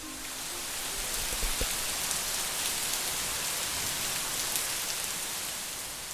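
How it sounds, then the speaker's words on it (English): Heavy rain pours down steadily in Taipei, Taiwan, a dense continuous hiss of water with no voices. "It's pouring down rain in Taipei"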